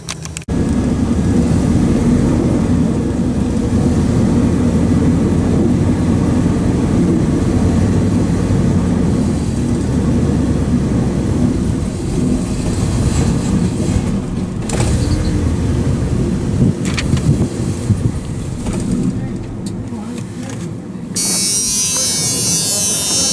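A struggling engine runs loud and continuous up close, rough and uneven, dipping as the throttle is hit and it nearly dies out, with a brief hiss near the end.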